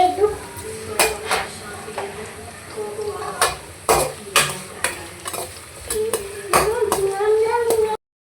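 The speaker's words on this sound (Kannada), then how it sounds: "ಈರುಳ್ಳಿ ಸ್ವಲ್ಪ ಫ್ರೈ ಆಗಬೇಕು." Onions fry in a pan for cabbage Manchurian, with a steady sizzle under repeated scraping strokes of a spoon against the pan, close and fairly loud throughout.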